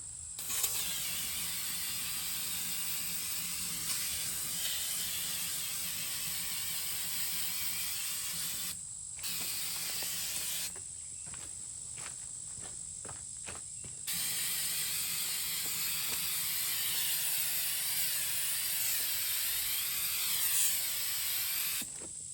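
A steady, close hiss of aerosol paint stripper sprayed onto a wheel runs almost continuously, with a few brief pauses where it cuts out.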